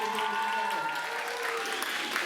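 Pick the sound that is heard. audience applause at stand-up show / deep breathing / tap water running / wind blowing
audience applause at stand-up show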